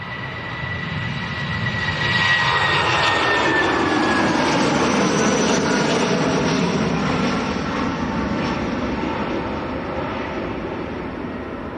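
A jet airliner climbs away after takeoff from Manchester Airport, its broad engine roar swelling in the first seconds, holding loud and steady, then slowly fading as it recedes into the distance with a thin descending whine.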